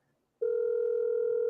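A telephone dial tone, played from a phone held up to a microphone during a live drawing stream, comes in suddenly after a brief hush and then holds as a steady, loud continuous hum.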